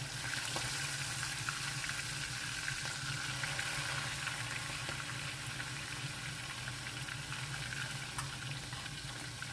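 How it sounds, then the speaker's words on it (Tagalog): Chicken wings frying in oil in a pan, a steady, even sizzle with faint pops and crackles throughout and no voices. "prituhin muna natin yung chicken wings"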